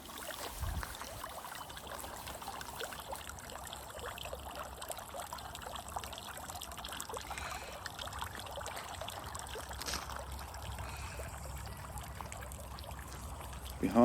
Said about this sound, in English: then a water feature